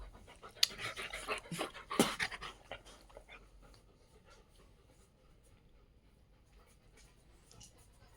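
A native Indian dog panting close by in quick rhythmic breaths, loudest at first and then fading to soft huffs, with faint background noise.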